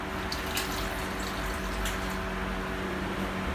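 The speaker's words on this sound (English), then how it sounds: "And I'm going to put some water." Water splashes steadily into a cooking pot holding chopped lemongrass and lime leaf, a continuous close pour with faint clinks.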